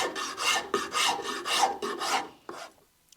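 Hand rasp shaping wood, a run of about six rough, scratchy back-and-forth strokes, close and steady, tapering off into quiet with no talk.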